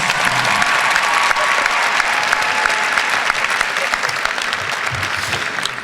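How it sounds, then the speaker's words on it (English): Loud, sustained applause from a large crowd at a college commencement ceremony, steady clapping with a faint murmur of voices beneath it. "She deserves a warm round of applause."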